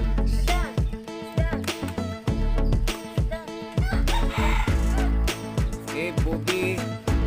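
Chickens cluck and squawk close by in a busy, uneven chorus, with short sharp calls overlapping throughout and no talking.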